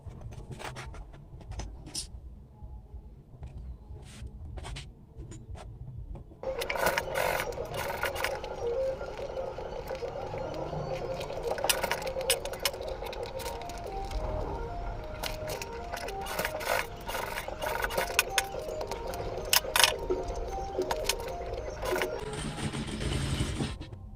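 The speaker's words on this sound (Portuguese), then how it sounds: "Nessa área aqui eu vou fazer uma costura, depois eu vou vir até aqui, vou alinhar ela de novo e vou passar outra costura aqui." Sewing machine stitching a seam on a fabric cube organizer bag with six compartments, a steady mechanical whir running in bursts with brief pauses, close and fairly loud.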